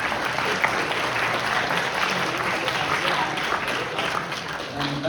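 Audience applause at a high school jazz band concert, dense and steady clapping from a large crowd filling the room, with some cheering voices mixed in.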